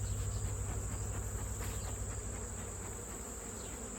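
Honeybees hum in a dense, steady drone around an open hive, holding level and close throughout with no voices.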